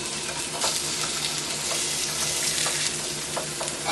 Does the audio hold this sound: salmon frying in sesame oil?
yes